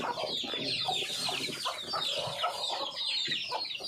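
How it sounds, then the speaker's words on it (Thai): Chickens clucking and chattering steadily on a small Thai farm where ducks are also kept, a dense, close flock of overlapping clucks with no talk. "เลี้ยงเป็ดเลี้ยงไก่นะครับ"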